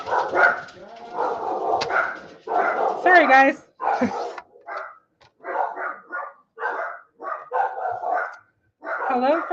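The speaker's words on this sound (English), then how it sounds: "Hello from all my dogs." Several dogs in a home barking, yipping and whimpering in short repeated bursts, close and loud, with a person speaking briefly among them.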